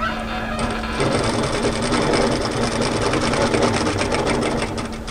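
A sewing machine stitches linen-look textured polyester chiffon toward the point of a cami front, a close, loud and continuous rapid whir lasting about five seconds without pause.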